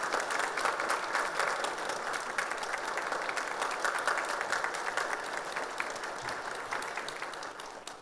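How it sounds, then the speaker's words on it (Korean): Church congregation applause during a Sunday worship service, a steady, even patter of many hands that is fairly distant and quiet and lasts throughout. "여러분 큰 박수로 위로 격려해 주시기 바랍니다"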